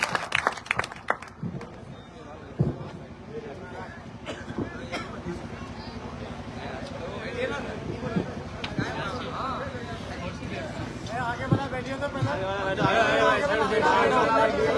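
Audience clapping and crowd chatter at a political rally as AIMIM leader Waris Pathan is welcomed, an uneven patter of claps rising and thickening toward the end over a babble of voices.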